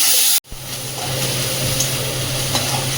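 Chopped onion hits hot oil in a wok with black cumin seeds and chopped ginger, then settles into a steady, close sizzle and frying hiss that lasts to the end.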